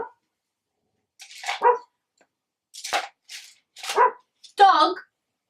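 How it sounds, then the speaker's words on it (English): A dog barks close by in a quiet room, several sharp barks in short bursts, the last one a longer, whining yelp. "Dog!"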